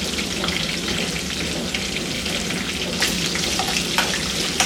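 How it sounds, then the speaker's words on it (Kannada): Curry leaves and ginger garlic paste frying in hot oil for potato palya, giving a dense, continuous close sizzle and crackle with a few sharper pops near the end and no talking. "ಒಂದು ಕಡ್ಡಿ ಕರಿಬೇವು, ಅರ್ಧ ಸ್ಪೂನ್ ಶುಂಠಿ ಬೆಳ್ಳುಳ್ಳಿ ಪೇಸ್ಟ್ ಹಾಕೊಳ್ಳೋಣ"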